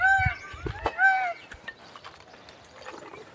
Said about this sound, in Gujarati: તમે હું બોલ્યો જ્યાં મોરલા પણ બોલવા લાગ્યા.